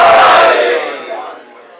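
A crowd at a religious gathering roars a slogan in unison in response to a preacher, a loud massed shout that fades away over about a second and a half.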